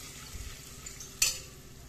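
Red chili powder is stirred into a tempering for a dal dish, giving a faint frying hiss with a soft low knock early on and one brief sharp clink of a spoon against the pan midway.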